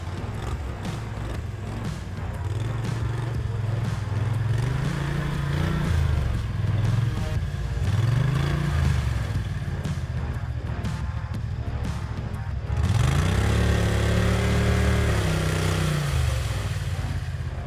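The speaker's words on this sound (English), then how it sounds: "one of the most complicated tasks for any ATV – getting out from an ice hole" Caiman Expert tracked ATV engine revs hard and continuously while trying to climb out of an ice hole in winter, with repeated rising and falling surges of loud, close engine roar and clattering tracks.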